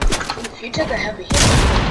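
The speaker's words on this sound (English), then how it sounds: "That would be the overseer's gun." Gunfire from the Overseer's gun in Fortnite rings out in a dense, loud burst that swells sharply in the second half, with scattered impacts before it and a voice talking over the action.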